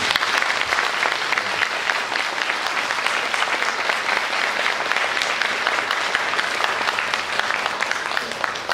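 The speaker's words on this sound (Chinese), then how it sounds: "借由各位的掌声，给我身后这群。" Audience applause at a school graduation music event, a dense, steady clapping that fills the whole stretch at an even loudness with no pauses.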